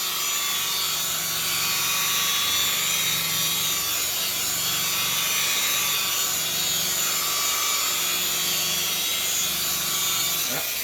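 A cordless Ryobi rotary polisher polishes car paint with a continuous, even whirring drone and a high, steady hiss that never breaks, holding at moderate loudness throughout.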